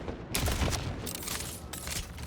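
Borderlands 4 shotgun firing in fast repeated blasts, a rapid string of booming shots spread through the clip at moderate loudness with no speech.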